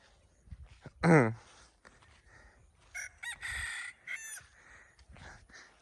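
A rooster crows once, loud and close, while walking after its owner as he steps backward; faint rustling and a few other bird calls follow.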